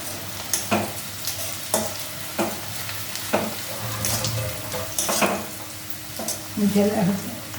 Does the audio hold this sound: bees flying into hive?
no